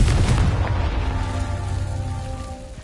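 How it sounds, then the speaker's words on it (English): A Confringo fire spell bursts in Hogwarts Legacy on PS5 during a Merlin trial, opening with a loud booming blast that rumbles and then fades into a sustained low roar over nearly three seconds, with no voices. "Confringo."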